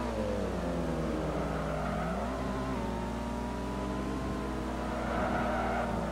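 Subaru STI and Mitsubishi Evo race cars lapping the Mugello circuit, engines droning loudly and steadily as revs rise and fall through gear changes, one car close by with others nearby, and no pause throughout.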